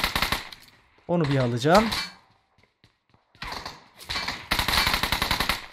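Gunfire in the mobile battle royale game PUBG Mobile, in sharp bursts of rapid shots at the start and in dense volleys near the end, with a voice talking in between.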